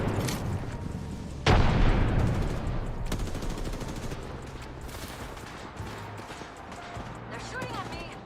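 Gunfire in an Apex Legends match: a sharp loud blast followed by scattered rapid shots and bursts fading into lighter pops, with a player talking over the action.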